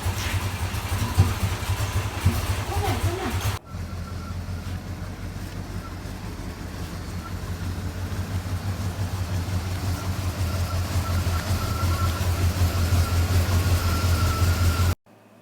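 A car engine that has sat unused for months cranks and catches, then runs at a steady idle, loud and close. It cuts off abruptly at the end.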